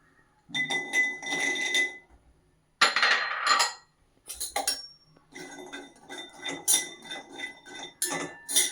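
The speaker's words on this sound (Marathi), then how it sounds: "तर आता आपण अक्रोड पण भाजून घेते" Walnuts dry-roasting in a hot pan rattle and clatter in repeated bursts as they are stirred and tossed, with bright metallic clinks against the pan. The sound is close and fairly loud, with short pauses and no speech.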